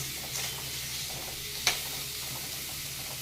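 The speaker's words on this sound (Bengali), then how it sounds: "পেঁয়াজ কুচানো একটু পেঁয়াজটা একটু ভেজে নিই" Chopped onion fries in a pan with a quiet, steady sizzling hiss, broken once by a brief soft click.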